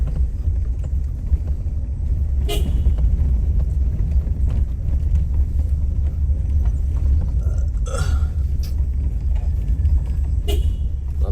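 A truck passes on a road in Toraja, heard as a steady, fairly loud low rumble of engine and tyres that holds throughout, with a few faint higher knocks and clatters on top.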